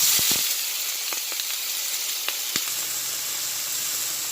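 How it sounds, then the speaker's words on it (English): Chopped seasonings sizzle steadily in a pot as they sauté for a Vienna sausage breakfast, a close, even frying hiss with a few faint clinks. "sauteing my season right into the pot"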